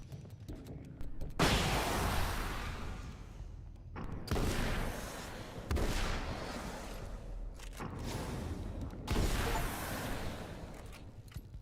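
Flashbang blasts in Alan Wake's American Nightmare, several broad booming bursts that each ring on for about a second, separated by short quieter gaps.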